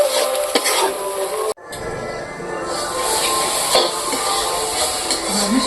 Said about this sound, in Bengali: মশলাটাকে আমি এইভাবে ভালো করে কষিয়ে নেব।